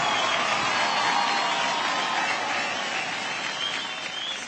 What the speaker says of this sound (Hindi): तो जोरदार तालियां हो जाए गीता की गैंग के डांसिंग स्टार्स पॉल और उर्वशी